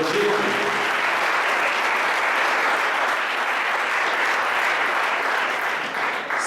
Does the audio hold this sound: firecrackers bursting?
no